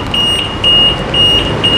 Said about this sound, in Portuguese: Aí disparou o alarme agora.